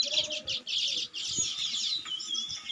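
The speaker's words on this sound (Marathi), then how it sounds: "सकाळ खूप जास्त चिमण्या चिवचिव करतात आणि त्यांचा चिवचिवाट" Sparrows chirp in a dense, continuous run of high twittering in the morning near a jujube tree, moderately close, with faint low rumbles beneath and no talking.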